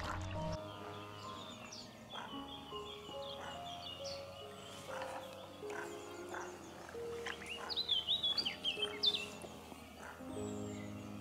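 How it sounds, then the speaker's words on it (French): Birds sing and chirp along the Ain river while kayaking, scattered bright calls over a steady low hum, with a denser burst of song toward the end. "Avec Valérie, on savoure le chant mélodieux des oiseaux qui nous accompagnent."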